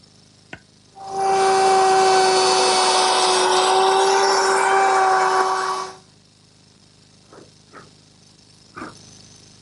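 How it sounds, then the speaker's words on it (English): A router fitted with a circle-cutting jig cuts wood, a loud high whine with strong steady tones running for about five seconds, then stopping. A few soft knocks and handling sounds follow. "this jig will cut circles up to 20 inches in diameter."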